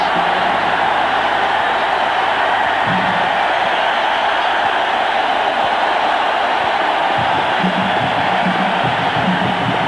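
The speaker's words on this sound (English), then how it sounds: "the fans cheer the Raider defense" Crowd noise at a 1985 AFC Divisional Playoff football game between the New England Patriots and Los Angeles Raiders, a steady loud roar of fans cheering the Raider defense, broad and distant throughout.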